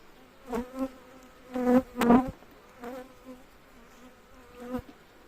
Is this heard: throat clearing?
no